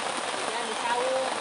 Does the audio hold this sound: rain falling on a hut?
yes